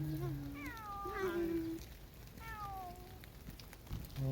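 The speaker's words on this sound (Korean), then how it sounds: "야옹하네." A cat meows several times outdoors in heavy morning rain, clear rising and falling cries over a steady hiss of rainfall.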